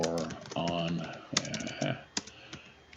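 Computer keyboard typing at a desk, quick clusters of key clicks with brief pauses, partly under someone talking close by.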